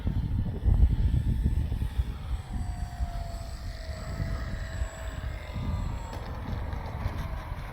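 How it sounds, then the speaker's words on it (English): A Dynam ME BF-109 RC model airplane drones steadily at a distance, its faint engine tone drifting in pitch over persistent wind rumble. "Greg, land the plane now."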